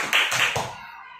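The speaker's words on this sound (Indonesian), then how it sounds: "Tepuk tangan buat kalian semua" Classroom students clap briefly in a short burst of a few quick claps, fairly close and fading out within about a second.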